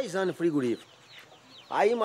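Hens clucking on a rural Brazilian homestead, a few loud nearby calls in two bursts separated by a quiet gap.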